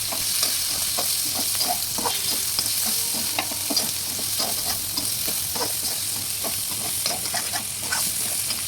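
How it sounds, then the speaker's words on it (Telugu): Spices are stirred into vermicelli in a hot pan, giving a continuous sizzle and hiss with repeated scraping strokes of the spoon, steady and close throughout. "వేసుకొని బాగా కలుపుకోవాలి"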